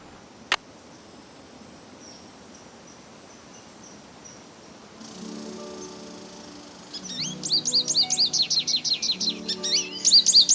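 Birds in the Nancy Drew: Ghost Dogs of Moon Lake video game chirp over a quiet outdoor ambience, starting with a faint click and growing into loud, rapid repeated tweets near the end.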